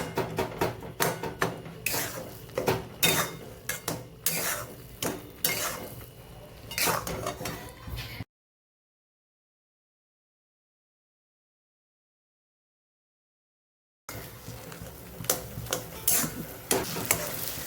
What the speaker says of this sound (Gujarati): ત્યાં સુધી આપણે એને હલાવતું રહેવાનું છે